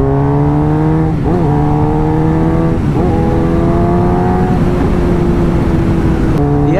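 A superbike engine roars close by, its pitch climbing through several gear shifts with brief dips between each rising whine.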